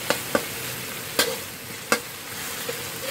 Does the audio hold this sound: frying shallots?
yes